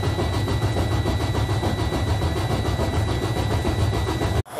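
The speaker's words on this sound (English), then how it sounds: "And now we wanna start the engine." A Freightliner Cascadia truck with a Detroit Diesel engine cranking and catching, a loud, rhythmic diesel clatter settling into a steady rumble close by, then cutting off abruptly.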